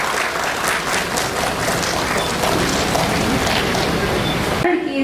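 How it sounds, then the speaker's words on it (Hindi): A large crowd at a public event in India breaks into sustained, loud applause. The clapping is dense and steady and cuts off abruptly at the very end. "फिर जोरदार ताली बजाएं"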